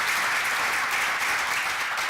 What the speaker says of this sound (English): So a round of applause for our sponsors again.